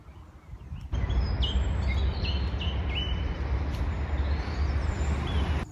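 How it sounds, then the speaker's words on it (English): Faint bird chirps and short calls at Colne Brook drift over a loud, steady rumble of traffic or wind that swells in after the first second. "listen to the bird song"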